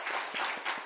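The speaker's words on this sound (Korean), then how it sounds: "저 뒤에 앉았는데 돌아보시고 크게 박수로 환영하겠습니다." A church congregation breaks into applause during a Sunday worship service to welcome a visiting missionary family, a steady, broad wash of many hands clapping together at close-to-moderate distance, with no voices heard over it.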